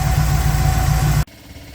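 A Ford F100 truck engine idles steadily after a pushrod swap, a loud, even low rumble close by that cuts off abruptly near the end, leaving quiet background.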